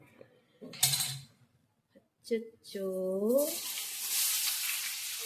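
Potato pieces frying in a pan in a home kitchen: a steady sizzling hiss builds over the last seconds, after a few brief clatters and a short voice.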